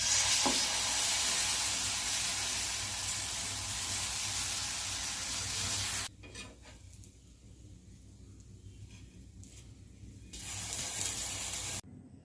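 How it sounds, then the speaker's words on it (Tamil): Ghee sizzling in a hot frying pan for a sweet potato pancake, a loud steady hiss for several seconds that drops away, then returns briefly near the end. "அதில் வந்து நான் கொஞ்சமாக நெய் போட்டுக்கிறேன்."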